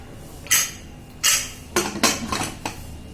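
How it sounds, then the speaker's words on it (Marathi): Metal lid set onto a pressure cooker while cooking Agri-style mutton rice, with two separate sharp clanks followed by a quick run of rattling metallic knocks close by. "आता आपल्याला कुकरचं झाकण लावायचं आहे"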